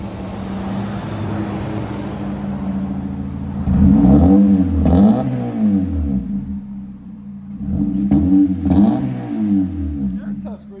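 A 2012 Honda Civic LX with a 1.8L engine, muffler delete and 5-inch exhaust tip, idles up close and loud, then revs hard in two separate bursts.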